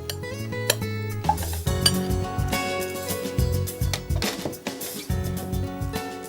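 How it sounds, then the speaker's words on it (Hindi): Clanking pot and utensil clatter with a low sizzle as meat is added to a hot pan for yakhni kebab, irregular metallic knocks and scraping over continuous frying hiss. "सबसे पहले हम पैन गरम करेंगे, उसमें ये गोश्त डालेंगे।"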